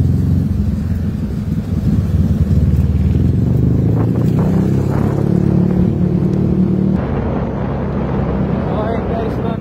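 Motorized tricycle engine idling and rumbling steadily on a flooded street in Hagonoy, close and loud, with a low droning hum throughout and brief murmurs of voices.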